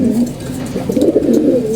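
Pigeons coo steadily at close range in a loft kept for racing and high flying, soft overlapping throaty calls running continuously through the moment with no talk.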